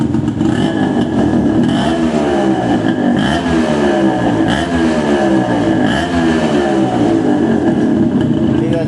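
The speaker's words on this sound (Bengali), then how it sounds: "ইঞ্জিনে একটা কাট কাট কাট কাট কাট কাট সাউন্ড আছে" Yamaha RX135 motorcycle engine idling and revving close by, a loud uneven two-stroke drone with repeated rising revs and a rapid knocking clatter from the engine.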